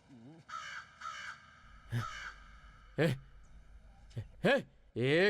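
Several loud crow caws ring out in short separate bursts, some nearby and harsh, with quiet gaps between them.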